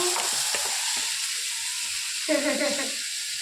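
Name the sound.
jalebi batter poured into hot oil, frying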